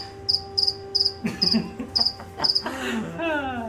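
Crickets chirp in short regular bursts, close and distinct, with a few other faint sounds mixed in toward the end.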